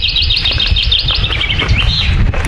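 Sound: birds chirping on a mountain hike

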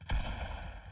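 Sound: gunshots in Fortnite video game

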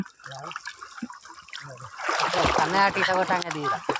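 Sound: water splashing as a child swims

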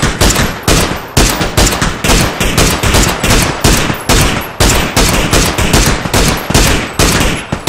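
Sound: gunfire in a first-person shooter video game

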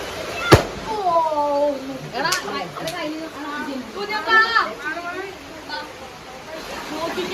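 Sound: firecrackers bursting during Vishu celebration

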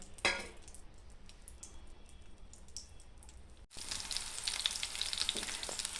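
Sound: green chillies frying in oil in a pan

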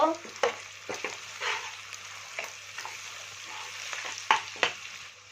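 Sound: stirring turmeric and chili powder in a frying pan

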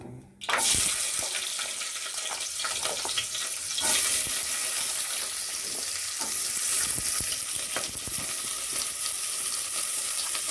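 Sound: onion frying in oil after mustard seeds crackle

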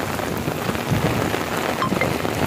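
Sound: heavy rain

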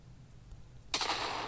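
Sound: explosion in a video game

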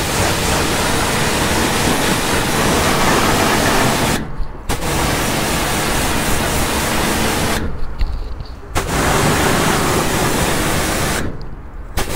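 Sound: washing car engine with water

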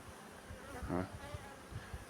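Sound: honeybees flying at hive entrance

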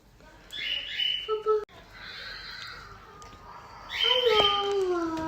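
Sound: battery-powered toy parrot chirping

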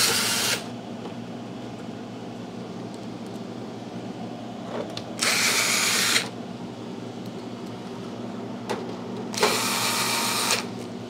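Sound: power drill tightening screws on a Haier wine fridge

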